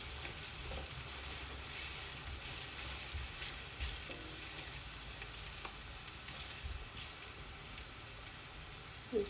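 Meat pie filling stirred and frying in a pan, a steady close sizzle running throughout with occasional soft scrapes of the spoon, no voices.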